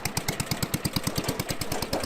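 A small motorcycle engine on a homemade tractor idles close by with a fast, even chugging pulse, about eight beats a second, steady throughout.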